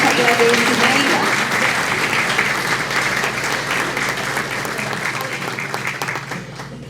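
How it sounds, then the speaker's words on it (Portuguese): Audience applause fills a hall at an education event, steady dense clapping that fades slightly toward the end, with no voices over it. "Uma salva de palmas para a Maraína,"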